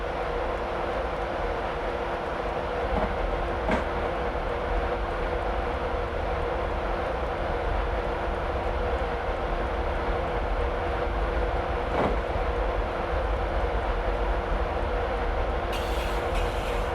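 In Train Simulator 2016 a Class 91 electric train accelerates with a constant loud cab drone and rolling rumble, steady tonal hum, a couple of faint clanks along the track and a hiss near the end.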